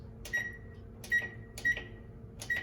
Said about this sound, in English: We're gonna set our timer on the stove for 20 minutes.